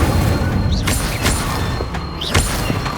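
Incendio fire spell cast in Hogwarts Legacy, two or three sharp whooshing bursts with thuds over a rumbling, busy game soundscape.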